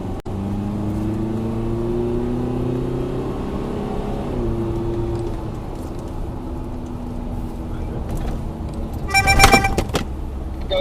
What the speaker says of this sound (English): it's a fully marked police car.